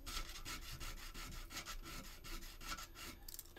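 A resin model is given a light sanding, with close, quiet strokes rubbing back and forth in a quick, regular rhythm and no voices.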